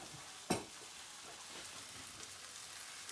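Cooked potatoes and corned beef tipped into a hot pan for hash, one soft thud followed by a faint steady crackling sizzle, quiet and close with no talking.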